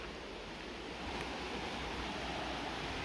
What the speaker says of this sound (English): Little waterfall there. Comes down.